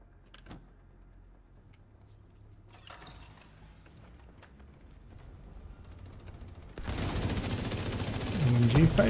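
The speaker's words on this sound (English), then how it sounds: "LMG fight, yeah." Light machine guns firing in The Division 2, first scattered distant shots and clatter, then a sudden dense roar of sustained automatic fire that grows louder to the end.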